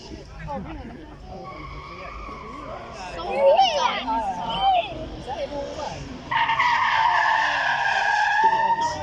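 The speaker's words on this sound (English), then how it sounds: "How about a Rover V8 though? Let's hear what the Ginetta can do." Ginetta supercar with a Rover V8 engine on a demonstration run at the Beaulieu Supercar Weekend, tyres squealing and the engine revving up to a strong sustained roar, with a commentator talking throughout.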